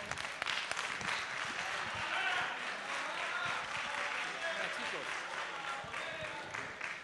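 Audience applause continues steadily for several seconds at a tuna music contest award ceremony, fairly quiet and distant, with the murmur of a crowd mixed into the clapping.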